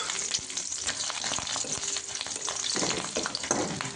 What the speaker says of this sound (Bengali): প্রথমে দেব রসুন। রসুনগুলো হালকা একটু ভেজে নেব।